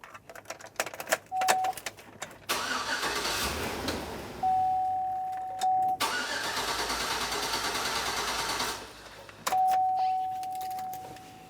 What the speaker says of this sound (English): Now the next thing that you'll want to do is attempt to start the vehicle.